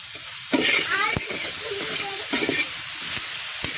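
Onions and home-grown green chillies fry in a pan, sizzling loudly while a utensil stirs and scrapes in irregular strokes, close by and without speech.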